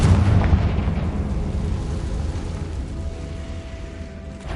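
A Confringo spell from Hogwarts Legacy erupts in a loud, close, booming blast at the start, then trails into a rumbling decay with no talk.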